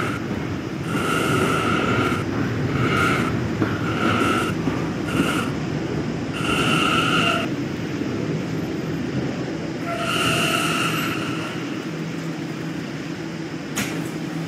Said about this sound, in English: This is a Westpatop bound D train